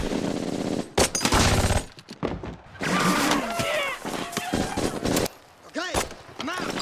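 Bursts of rifle and machine-gun fire ring out in a Band of Brothers war drama episode, sharp cracks and rattling volleys over battle noise and shouting voices.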